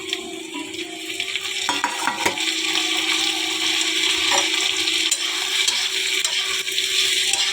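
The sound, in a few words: potatoes frying with onions in mustard oil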